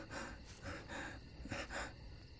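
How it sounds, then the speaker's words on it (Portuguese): A person breathes faintly in a cold outdoor setting, a few soft rhythmic breaths with gasping, airy inhales and exhales, quiet and close against a hissy background, with no speech. "Eu estou ouvindo a sua respiração"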